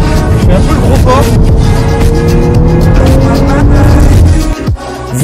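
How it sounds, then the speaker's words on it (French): A Porsche 911 GTS Targa 4 driven hard, its engine note rising and holding in a loud, close, tonal roar that drops away abruptly near the end, with someone talking over it. "c'est bien la Porsche 911 GTS en version Targa 4 que j'ai pu essayer"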